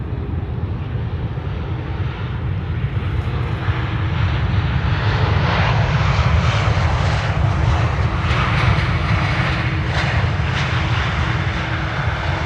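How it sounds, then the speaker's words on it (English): A Vueling Airbus A320 arriving from Barcelona at Amsterdam Schiphol gives off a loud, steady jet roar with a broad rushing hiss that builds slightly as it passes overhead, with no voices. "Next A320, Hans favorite, Vueling, flight 8300,"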